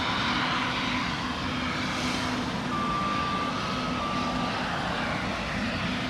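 A cargo aircraft at East Midlands Airport waits for pushback with its engines running, a loud, steady, broadband roar that continues unbroken close by on the apron, accompanied by a faint tonal whine.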